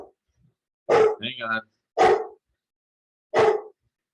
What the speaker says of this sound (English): And I'm sorry about my dog.